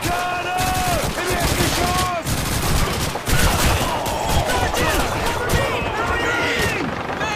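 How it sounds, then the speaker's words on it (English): Heavy gunfire rattles through a World War II battle in the Call of Duty video game: dense, loud bursts of rifle and machine-gun fire overlapping continuously, with shouted voices breaking through the din. "German infantry! Bottom floor! Open fire!"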